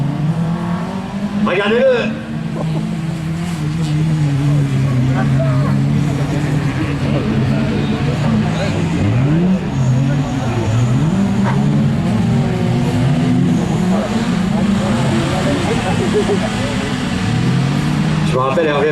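A Citroën BX touring race car engine revs and drones steadily through a circuit race, its pitch rising and falling with gear changes, while a commentator talks excitedly over it throughout.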